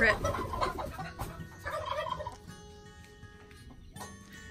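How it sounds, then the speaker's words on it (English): Bourbon Red turkeys in a backyard coop give repeated gobbles and clucking calls, close and fairly loud, with other poultry sounds mixed in and no talk. "Haven't showed you the turkeys in a while. The red bourbons."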